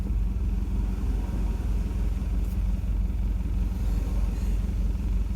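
A 4x4's engine rumbles at low, steady revs during off-road vehicle recovery with a tow strap, a constant mid-level drone with no speech over it.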